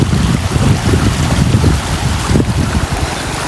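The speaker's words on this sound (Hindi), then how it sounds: "ये जा रहा है सीधा हमारी तरफ पानी।" Irrigation water rushes fast through an open field channel, a loud, steady, broadband roar with churning low turbulence that holds for several seconds with no voices over it.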